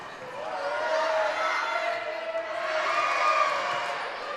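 Spectators at a high school volleyball match between Perham and Frazee roar and cheer in a gym, a steady, swelling crowd noise with shoe squeaks faintly audible through it.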